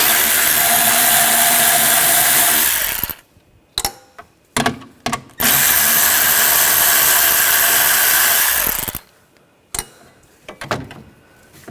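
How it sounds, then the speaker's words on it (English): A 10mm socket wrench removes two bolts on a 2013-2022 Buick Encore during a cooling fan assembly replacement. Two long, loud whirring bursts of a powered ratchet, each followed by short clicks and clatter, no voices. "Take these two bolts off, use a 10mm socket."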